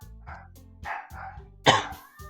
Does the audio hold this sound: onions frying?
no